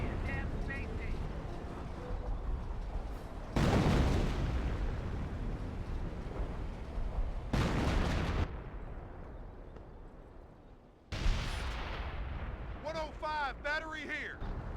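Artillery shells boom in the World War II strategy game Company of Heroes, with several heavy blasts landing amid battle noise while a commentator talks over them.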